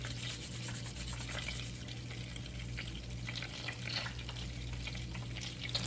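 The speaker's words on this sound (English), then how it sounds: "so grating the fresh garlic" Fresh garlic grated by hand into a pan of butter, a continuous close scratchy rasp under a steady background sizzle and hum, with no talking.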